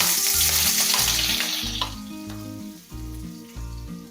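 Garlic frying in hot oil in a pan on a stove, a steady loud sizzle with faint background music under it and no talk.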